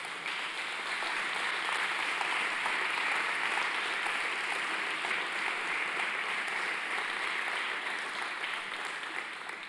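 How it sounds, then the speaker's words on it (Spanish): Steady, loud applause from a congregation at a Saturday youth church service, dense sustained clapping that continues without a break throughout. "¿Por qué no le hace un fuerte aplauso a Jesús?"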